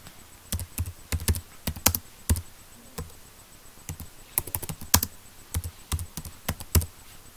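Someone types on a computer keyboard in bursts of close, crisp key taps with short pauses between, and no one speaks.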